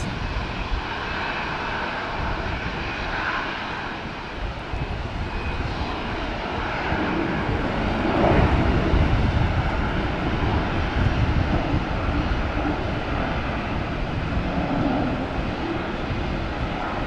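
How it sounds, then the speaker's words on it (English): A fixed-wing airliner comes in to land at Brisbane airport, its engines a steady broad roar that swells slightly midway, heard from a distance outdoors with some wind buffeting the microphone. "See, we got another plane coming in and I missed it."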